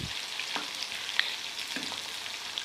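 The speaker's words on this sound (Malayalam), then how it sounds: "അതിനുശേഷം മീഡിയം ഫ്ലെയിമിലിട്ട് വേണം ചിക്കൻ വറുത്തെടുക്കാൻ." Chicken pieces for a pineapple chicken dish fry in oil over a medium flame, giving a soft, steady sizzle with small pops and occasional stirring sounds, fairly quiet and uninterrupted by speech.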